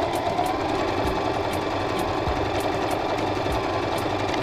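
A Singer M3205 sewing machine stitches in a steady, fast mechanical chatter with regular ticking pulses, running alone at close range.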